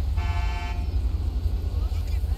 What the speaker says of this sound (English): Stop with the honking, please.